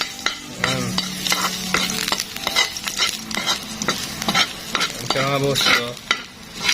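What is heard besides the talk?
garlic frying in oil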